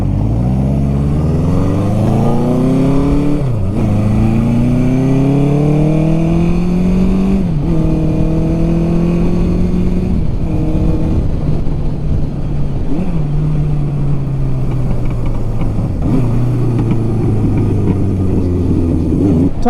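Honda CB750 F Supersport motorcycle engine heard while riding, a loud close drone that repeatedly revs up through the gears, dropping briefly at each shift before climbing again.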